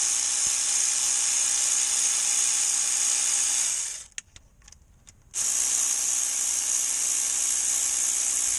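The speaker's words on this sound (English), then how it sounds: "you're watching me take out all these bolts" A power tool whirs steadily while backing out transmission pan bolts on a Chevy Impala, stopping briefly for a second or two of rattling quiet before the steady whine resumes, loud and close with no talk.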